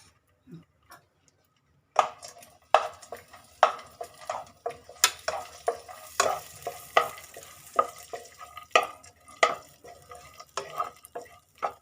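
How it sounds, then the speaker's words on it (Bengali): Almonds, cashews and raisins fry lightly in ghee, with quiet sizzling under a run of crisp ticking scrapes and taps from stirring that come in a fairly regular rhythm once it begins after a brief near-silent start. "কাঠবাদাম, কাজু বাদাম, কিশমিশ একটু ঘিয়ে ভেজে নেব, হালকা করে ভেজে নেব একটু।"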